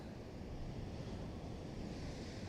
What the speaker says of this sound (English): Waves are breaking hard.